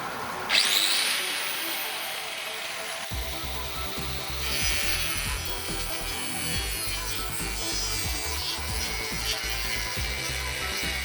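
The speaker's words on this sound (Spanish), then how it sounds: "la amoladora angular" A harsh, grinding angle grinder screeches loudly and continuously, rasping against material with a steady abrasive roar that shifts slightly in pitch.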